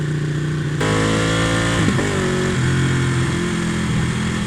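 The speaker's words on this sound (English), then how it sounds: "What a gorgeous noise, what a gorgeous burble" Ducati Panigale (899 or 1199 S) sport motorcycle engine idling with a deep, steady burble, then rising briefly in a quick rev before settling back, loud and close with no talking.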